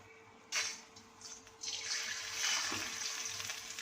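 Chicken pieces are lowered one at a time into hot oil and ghee, each bringing a sudden burst of loud sizzling that settles into a steady close hiss and crackle, with no voices.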